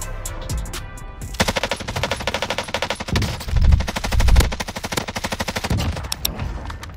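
A RAM 7 assault rifle in Call of Duty Warzone on Rebirth Island fires long rapid automatic bursts, loud and close, with brief gaps and heavier thuds mixed in between strings of shots.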